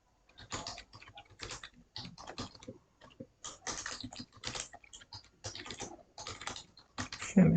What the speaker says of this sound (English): I will press enter.